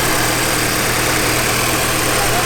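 Audi S3 8P engine idling roughly like a tractor, a steady loud low rumble with constant vibration throughout, no talking.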